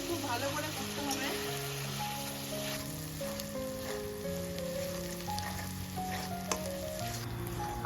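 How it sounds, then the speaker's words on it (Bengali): Spice paste for a katla fish and potol curry fries in a pan with a steady crackling sizzle, while music with sustained tones plays over it at moderate loudness. "মশলাটা আমাদের খুব ভালো করে কষতে হবে।"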